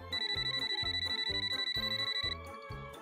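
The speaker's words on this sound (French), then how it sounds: "Oh, Flora appelle" An incoming call on a telephone: a bright electronic ringtone repeats in steady rhythmic pulses with a sustained high tone, loud and close, then stops shortly before the end.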